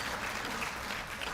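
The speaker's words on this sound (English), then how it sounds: "If we could all maybe get a round of applause for Barry" A short burst of steady applause from a small crowd at a 100th birthday celebration at the Halekulani hotel, even and continuous, heard at moderate distance.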